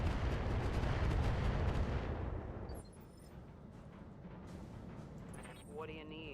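A light sniper turret firing in the BattleTech video game, a deep rumbling blast that fades into a lingering low roar, moderately loud, with a voice talking over it.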